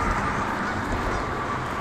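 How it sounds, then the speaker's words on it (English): Geese honk amid steady outdoor ambience, their calls fairly distant and blending into a constant wash of background noise. "There's a couple more geese."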